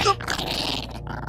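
A large black dog growls as a sound effect in a horror audio story, a loud, close, rough snarl that lasts just over a second, with a sharper yelp-like burst at the start and no voices over it.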